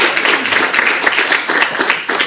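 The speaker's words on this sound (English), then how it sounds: "let's give her a round of applause now" Applause from a meeting audience for Abby, a guest at a quarterly awards gathering, with steady dense clapping that fills the whole stretch at moderate loudness and no voices over it.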